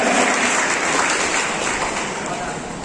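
Loud applause from an audience at an NCC prize distribution ceremony at a college in Mayabunder, dense continuous clapping that stays strong and fades slightly toward the end.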